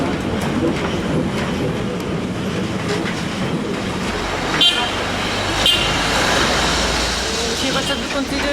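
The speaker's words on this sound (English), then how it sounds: "One of the most pleasant ways to discover Lisbon is on board one of these colorful trams, which snake their way through the narrow streets of the old quarter." A colorful Lisbon tram rolls through the narrow streets of the old quarter, its steady rumble and wheel clatter continuous throughout, with a couple of sharp metallic squeals or knocks near the middle and a brighter rattling toward the end.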